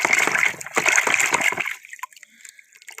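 Water splashing and sloshing as a sea creature, a turtle, is rinsed clean, a burst of wet splatters for about a second and a half, then scattered faint drips and trickles.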